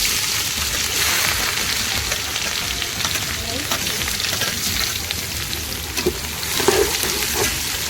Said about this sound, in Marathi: आता आपल्या ह्याच्यामध्ये कांदा टाकून घ्यायचा